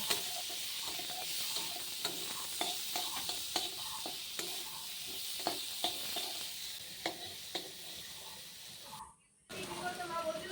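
Paneer sizzles steadily in a hot pan while a utensil scrapes and taps against it in irregular stirring strokes, close up.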